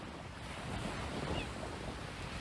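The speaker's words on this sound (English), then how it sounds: "It's really windy, but it's beautiful out here." Strong wind and breaking surf on St. Pete Beach near Tampa, Florida, a steady, broad roar of gusting air and waves buffeting the microphone, with no talking.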